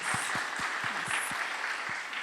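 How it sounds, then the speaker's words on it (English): Audience applause at Ranveer Singh's appearance at the inaugural FICCI Frames Fast Track 2022 event: a steady wash of many hands clapping, fairly distant and even in level, with no voices over it. "Big applause on that."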